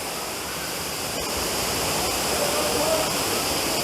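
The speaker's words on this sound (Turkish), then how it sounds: "Geçen hemen arkamdaki şelale şahane görünüyor." Sütüven waterfall in the Kaz Mountains roars as a steady, loud broadband wash of falling water, continuous and close throughout with no talk over it.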